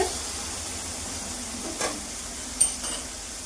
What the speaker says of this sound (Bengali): এক মিনিট আঙ্গুরটাকে ভেজে নিই।